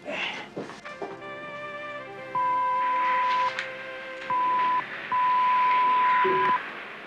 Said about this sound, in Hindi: Just check my answering machine